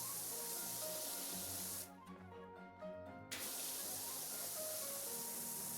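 Pressure washer spraying water in PowerWash Simulator 2, a steady hissing spray that stops for about a second and a half, then resumes, quiet with a faint musical background.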